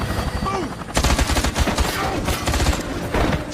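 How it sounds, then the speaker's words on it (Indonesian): Bursts of rapid gunfire rattle loudly through a tense film scene, dense overlapping shots with a few voices mixed in. "si detektif malah menginstruksikan tembakan terhadap Dimitri"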